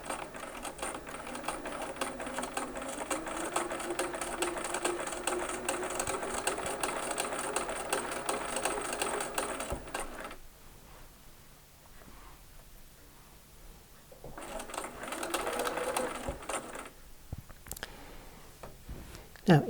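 A sewing machine runs steadily stitching a quarter-inch quilt seam for an eight-point star block, a close, continuous whirring hum that pauses briefly before starting up again and cutting off near the end.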